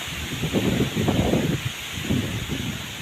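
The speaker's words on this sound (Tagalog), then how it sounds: "So malakas na talaga yung hangin mga idol." Strong typhoon wind roars and buffets against the microphone in heavy, fluctuating gusts, with rustling underneath.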